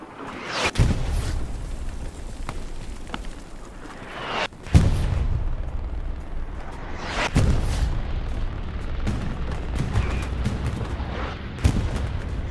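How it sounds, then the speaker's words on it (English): Bombing run in the World War II shooter Hell Let Loose: repeated heavy explosions and booms, several sharp blasts spaced across the stretch over a constant rumbling battlefield background, no speech. "Spree bombing run. West, east, down the main."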